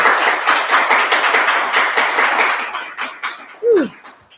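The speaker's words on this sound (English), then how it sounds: "And give another round of applause for Joshua." A crowd at a poetry reading applauds with dense, steady clapping that thins out toward the end, followed by a brief whooping cheer.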